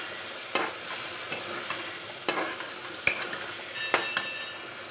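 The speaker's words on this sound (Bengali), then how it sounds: "এবার আলুগুলোকে দিয়ে আবার ভালো করে কষাতে লাগলাম।" Potatoes are sautéed with spices, tomato and soaked masala in a pan for chicken jhol, with a soft continuous sizzle broken by several sharp scrapes and clinks of a spoon stirring against the metal, close and fairly quiet, with no talking.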